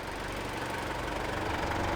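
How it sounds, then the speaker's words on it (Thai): A car engine idling nearby after a battery jump-start, an even low mechanical rumble with a faint knocking pulse, steady throughout and without voices. "ฟรีเครื่องทิ้งเอาไว้ก่อน"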